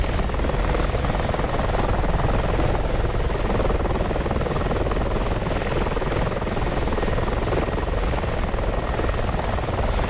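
A propeller aircraft engine in the DCS flight simulator game drones as a loud, steady, dense roar with a faint buzzing pulse, unbroken throughout.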